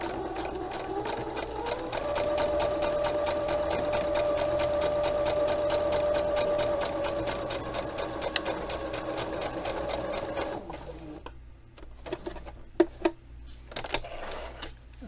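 A sewing machine stitches fabric for baby overalls with a loud, fast, steady motor whir lasting about ten seconds, then stops, leaving a few light handling clicks and rustles.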